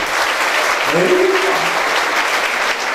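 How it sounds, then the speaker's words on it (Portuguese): A loud, dense round of applause from a congregation at a church Mother's Day tribute, sustained evenly throughout, with a brief voice or whistle-like tone rising above the clapping near the middle. "Uma salva de palmas"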